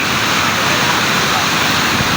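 River water rushes at Karasi, Ilocos Norte, as a loud, dense, unbroken wash of noise up close, steady throughout with no pauses.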